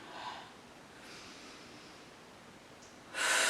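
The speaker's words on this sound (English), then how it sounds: "And adding your big exhale to this move." A single big, breathy exhale during a Pilates move, close and airy, with a sharper, louder rush of breath at the very end.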